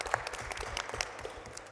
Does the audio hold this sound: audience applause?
yes